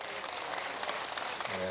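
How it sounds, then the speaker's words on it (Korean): Audience applause fills a large outdoor performance event in Incheon, a benefit concert for youth heads of households; steady, dense clapping runs throughout, and a voice begins speaking over it near the end. "자, 박수 한번 주시겠습니까?"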